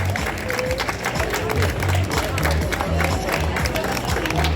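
Audience applause and cheering for contestants at the Miss Reine de la Noisette 2025 pageant in Lavit de Lomagne, a steady crowd of clapping with low background voices throughout.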